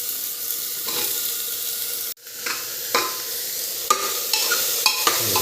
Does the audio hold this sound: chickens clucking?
no